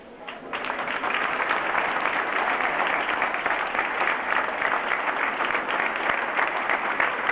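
A crowd at a rock tribute concert in a Canary Islands venue claps in a full, steady ovation honoring deceased band members, the applause rising fast and holding evenly, with a few voices within it.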